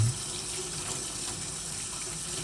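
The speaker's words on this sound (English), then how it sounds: "And then rinse until it's clean." Tap water runs steadily into a sink while a paintbrush is rinsed under it, a soft constant splashing hiss with no talking.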